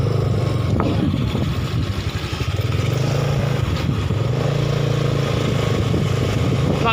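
A motorcycle engine running close by at a morning market in central Jakarta, a steady, throbbing low rumble with a mechanical clatter that keeps an even pace throughout.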